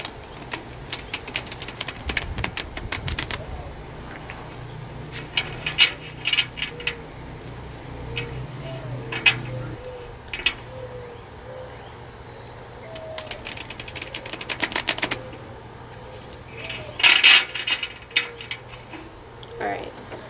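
Extra large tarot cards shuffled by hand in a steady run of soft riffling and flicking, close and moderately loud, with occasional louder snaps and brief pauses; faint background sounds but no clear talking.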